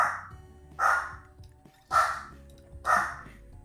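A dog barks four times at roughly one-second intervals, each bark a loud, hoarse woof heard indoors over faint background hum, with no talking.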